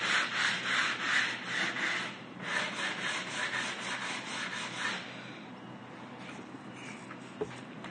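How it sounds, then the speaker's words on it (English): Hand sanding of a rustic wooden entryway table top, with a quick rhythmic rasp of back-and-forth strokes up close that eases into lighter, softer rubbing before going nearly quiet. "Let me finish to sand this area over here."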